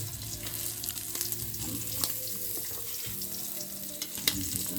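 Fish frying in a pan with garlic, a steady close crackling sizzle with scattered pops and light stirring scrapes, without talk.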